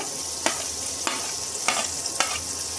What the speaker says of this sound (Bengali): রসুন কুচি আর কাঁচা লঙ্কা কুচিগুলো দিয়ে দিলাম। আমি এটাকে ভালো করে ভেজে নেব।